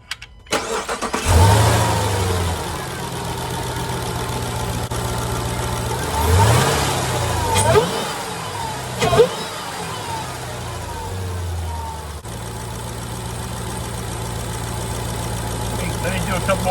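A Jeep Trackhawk fitted with an LMI Legmaker cold air intake cranks and fires up, then settles into a loud, steady idle with a few sharp throttle blips, heard up close with some voice in the background.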